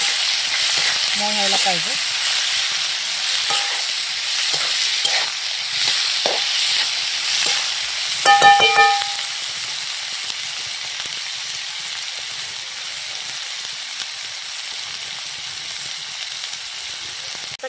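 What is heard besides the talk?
onions sautéing in a pan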